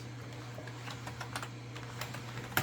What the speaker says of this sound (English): I'm now just going to clean the keyboard